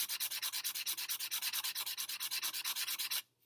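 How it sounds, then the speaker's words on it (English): Sandpaper rubs back and forth along the edge of a metal jewelry-making tool in quick, even strokes, about eight per second, close and crisp, then stops abruptly near the end. "I can use that sandpaper"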